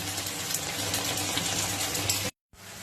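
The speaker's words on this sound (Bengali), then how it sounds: "এবার আমি জল দিয়ে দেবো।" Water gushes steadily into a pan of potato curry on the stove, a loud continuous pour that stops abruptly, then resumes briefly after a short silence.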